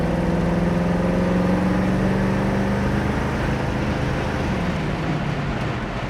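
A 1965 Ford Mustang Fastback with a 289 V8 accelerates on the road, a steady loud mid-pitched engine drone rising through the gears with a clear shift around the midpoint, road and wind noise underneath.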